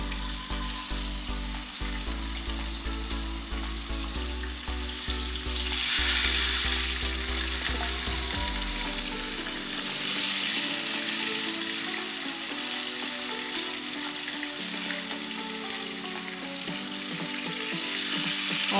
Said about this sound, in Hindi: मीडियम फ्लेम पे हम इसको फ्राई कर लेंगे